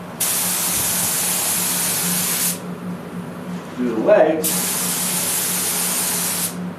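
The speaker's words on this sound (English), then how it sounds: "I don't need to spray right here. I just want to spray this rail up here." Spray gun applying a top coat finish to furniture spindles, legs and a rail, two long steady hissing bursts with a brief pause between, someone speaking briefly during the gap.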